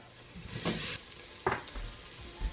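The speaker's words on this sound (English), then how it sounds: "I am going to add in my garlic. We're just going to cook that until it's fragrant" Garlic fries briefly in a pan. There is a quiet, close sizzle with a couple of short bursts and light clatter, and no voices over the soft crackle.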